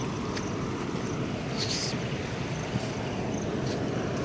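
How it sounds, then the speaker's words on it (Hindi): Floodwater rushing at a river dam in full spate, a steady broad roar of churning water that stays loud and unbroken throughout, with wind buffeting the microphone. "नदी में पूरा पानी भर गया है।"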